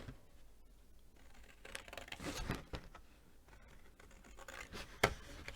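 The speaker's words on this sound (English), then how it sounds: "So I'm just going to cut around this shape here." Scissors cut around a paper shape for a craft piece, giving soft, scratchy snips and rustles of paper, faint and close, with one sharper snip near the end.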